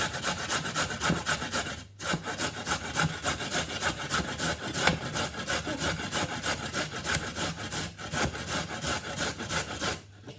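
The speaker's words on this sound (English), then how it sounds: "And then I'm going to grate it on the big holes of the grater." A coleslaw vegetable is rubbed steadily against the big holes of a grater, producing a continuous rasping scrape in quick back-and-forth strokes, close and fairly loud, broken by two brief pauses, with no voices.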